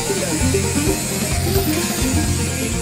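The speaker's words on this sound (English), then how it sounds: "An angle grinder is then used to smooth the foot surface" An angle grinder whines steadily as it smooths the sole of a bull's hoof during hoof trimming, a loud continuous buzzing hum with slight pitch wavering and no pauses.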